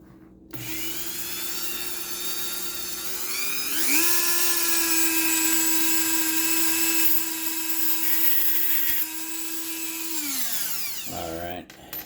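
A Dremel rotary tool with a cutoff wheel cutting a metal shock retaining pin for a Kyosho MP9 nitro buggy: a loud, steady high-pitched whine that rises in speed, holds while grinding through the metal, then spins down, with brief talk.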